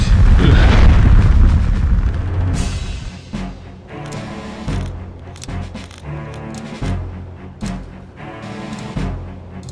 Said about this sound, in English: Fire magic.